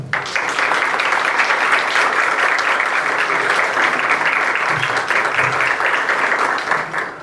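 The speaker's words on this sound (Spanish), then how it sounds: "el doctor Alejandro León Maldonado, para quienes pido un aplauso" Sustained applause from an audience at a book presentation, steady and dense clapping that fills the room for several seconds without talk.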